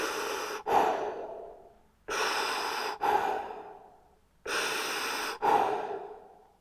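Slow, deep breaths during a balance exercise, three long inhales each followed by an audible exhale in a steady, unhurried rhythm, close and fairly quiet.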